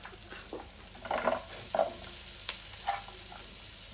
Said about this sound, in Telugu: మసాలా కొద్దిగా ఫ్రై కావాలి, అందుకే వేసుకోవాలి.